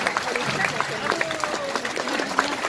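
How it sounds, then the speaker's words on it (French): An audience at a sea lion show at Nausicaa claps along, with scattered hand claps mixed with crowd voices and children's shouts at moderate volume. "On va vous demander de participer à cette animation en commençant par applaudir nos otaries ici présentes à cette animation."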